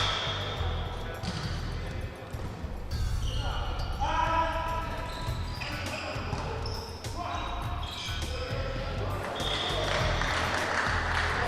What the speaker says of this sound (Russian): И Мухаммад идет на подачу.